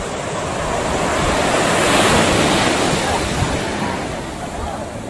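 Ocean waves break on a beach at Funchal, Madeira, a loud continuous wash of surf that swells to a peak and slowly recedes, mixed with buffeting wind on the microphone.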